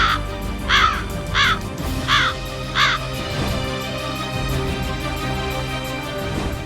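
Crows caw in the city of Baku, four harsh calls in a steady row close by, then quieter cawing farther off over a background of city hum.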